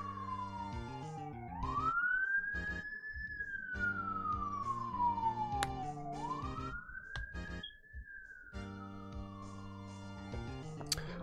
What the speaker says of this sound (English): there's a fucking siren